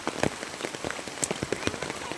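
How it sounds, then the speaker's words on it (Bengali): Morning rain falls steadily outdoors, a dense close patter of drops striking surfaces with irregular louder splashes throughout. "আর ওই দেখো বৃষ্টি হচ্ছে কি।"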